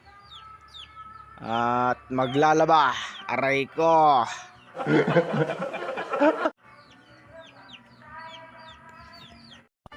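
Gamecock chickens cluck and squawk loudly at close range in short bursts, with a longer ruffled flurry midway, while someone speaks briefly over them.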